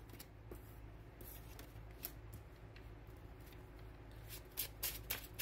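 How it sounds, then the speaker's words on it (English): A tarot deck is shuffled by hand in soft, quick riffling and sliding bursts, quiet and close, with a few sharper card snaps near the end and no speech. "Prior to me being done with shuffling, your cards literally just spit out."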